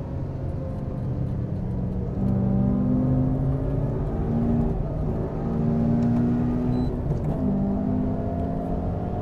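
A car engine revs hard as it is driven fast around a race track, rising and falling through the gears with a steady close-up drone and repeated accelerations.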